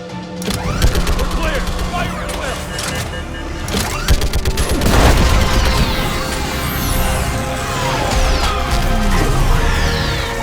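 Gunfire crackles in a science-fiction battle game during a fight against a giant Reaper, with dense bursts of shots, crashes and booming impacts throughout under a noisy, chaotic soundscape.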